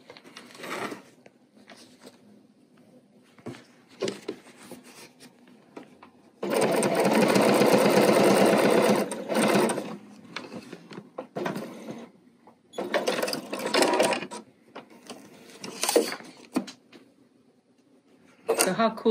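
A sewing machine stitches steadily along a groove in fabric, a loud continuous mechanical whir of several seconds that stops and restarts in shorter bursts, with a person talking between runs.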